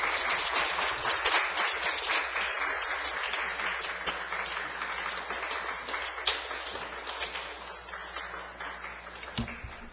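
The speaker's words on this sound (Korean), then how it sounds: "우리 박수로 맞이해 주시면 감사하겠습니다" A church congregation claps to welcome a visiting pastor, with thick, sustained applause from many hands that stays steady and slowly thins toward the end.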